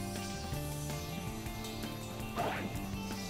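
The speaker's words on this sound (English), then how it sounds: "you can also use Espio's camouflage or ninja ability to get through the" Frogs croak in the jungle stage of the video game Sonic Heroes, a dense, steady chorus of calls layered over game music and ambience, with a brief louder burst near the end.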